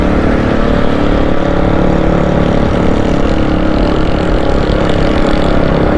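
Steady, loud engine roar of motorcycles passing along a busy city road in Nazimabad, Karachi, a continuous rumbling drone with no distinct breaks and no talking.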